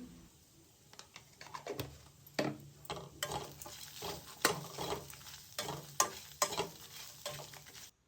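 Grated coconut and turmeric dry-roast in a pan for a brinjal and potato sambar, giving soft scraping stir strokes with a faint crackle, several sharper scrapes spread irregularly through the quiet stretch, with no voices.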